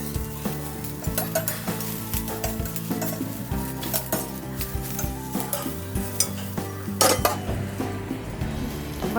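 Green chilies roasting in a hot pan for mutton handi, with a steady oil sizzle under repeated clinks and scrapes of a spoon stirring against the metal.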